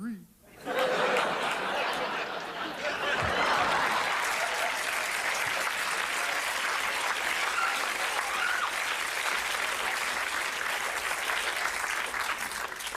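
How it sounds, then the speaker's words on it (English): Studio audience applause on a comedy variety show, a sustained, full wash of clapping with scattered laughter that begins after a brief voice and carries on evenly for over ten seconds. "It's really a great audience that applauds cardboard."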